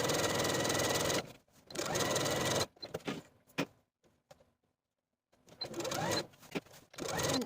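A home sewing machine runs in bursts as it stitches a seam on a holiday dress, with loud steady whirring runs broken by pauses, handling clicks and rustles, then a final stitching burst.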